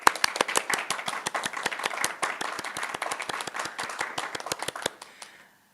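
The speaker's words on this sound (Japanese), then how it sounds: "それでは TODCS の皆さんに改めて大きな拍手をお願いします。" Audience at a hackathon demo day applauding a presenting team, brisk close claps in a steady stream for about five seconds before stopping abruptly.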